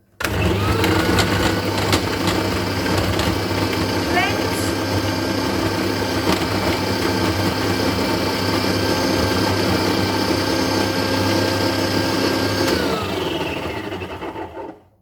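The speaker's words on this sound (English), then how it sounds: "Use the food processor until it's really fine breadcrumbs." A food processor grinds bread into fine breadcrumbs with a loud, steady motor whir that runs for about twelve seconds and then winds down to a stop, with no voices.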